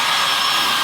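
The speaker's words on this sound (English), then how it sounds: "Got the fan blowing behind us." An electric fan blows in a garage behind someone working on a 1964 Chevrolet Malibu, a steady broadband whoosh of moving air with no talk.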